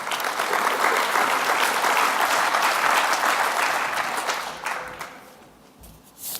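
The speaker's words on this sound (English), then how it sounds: "So a huge round of applause," Loud, sustained applause from an audience greeting the first speaker at a tech club launch, a thick roar of clapping that holds steady before thinning and fading away near the end.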